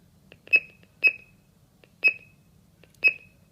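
A Golden Alarm GS G90 home burglar alarm panel arming itself gives four short bright electronic beeps at slightly uneven intervals, each with a softer click just before it, close and clear in a quiet room.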